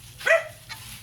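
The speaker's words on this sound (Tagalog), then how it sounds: "maingay yung aso" Dog giving a single sharp bark followed by a softer second yelp, fairly close in a quiet home kitchen setting, alone without talk.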